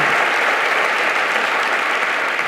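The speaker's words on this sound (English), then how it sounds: "I'd like to give a round of applause to the Skoll Foundation staff for all they do" At the Skoll World Forum, a large audience gives a sustained round of applause for the foundation's staff, a dense, steady roar of clapping from a packed hall with no talking.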